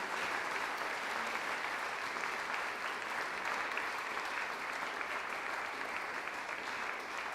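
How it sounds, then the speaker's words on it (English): A large crowd claps for the champion at the Scottish Squash Open 2023 finals, a dense, steady round of applause that holds for several seconds with no voices over it. "another massive round of applause,"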